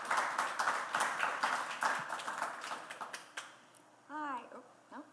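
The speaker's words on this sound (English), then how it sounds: "Please join us in giving them a warm round of applause." A museum talk audience claps for the panel speakers at an event on activism and the institution, a scattered round that fades out, followed by brief tonal sounds at the end.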